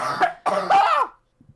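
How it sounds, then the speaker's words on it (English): A couple of harsh, throaty coughs close to the listener, then a brief faint sound and quiet. "Oh god, that cough."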